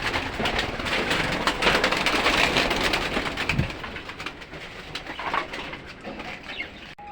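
Small pet quails call in short chirps over a constant broadband rustle resembling rain or movement. The sound is close and fairly loud, easing slightly in the second half, with no voices.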